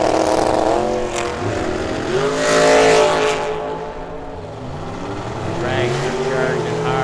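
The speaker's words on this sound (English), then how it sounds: "Dragster charging hard. Dragster for the win." A dragster charges down the strip in a teams drag race at Firebird Motorsports Park, its loud engine roaring and rising in pitch alongside other race engine noise, with a commentator talking over it.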